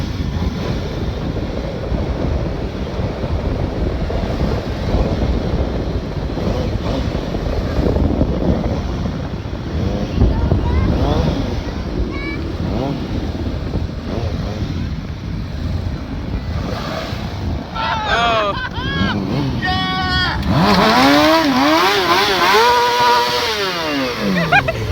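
A Kawasaki 636 and a first-generation Yamaha R1 sport bike race outdoors with heavy wind buffeting the microphone. Their engines roar continuously and climb in pitch through the gears, and a clear rising howl near the end marks hard acceleration.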